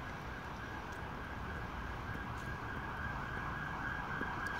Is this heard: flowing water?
no